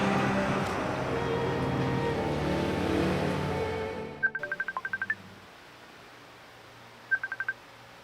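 A telephone call is placed: after steady background noise cuts out, a quick string of dialing beeps sounds, followed by short tone bursts.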